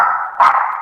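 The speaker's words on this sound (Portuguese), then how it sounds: "Desculpa pelo cachorro." A dog barks once indoors, a single short, sharp, loud bark with a tonal ring, close by and alone, with no talking over it.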